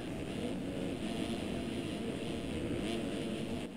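Motocross bikes racing in MX Simulator during a 250 heat race in a 2015 East Rutherford supercross, a continuous dense drone of several engines revving together at steady loudness.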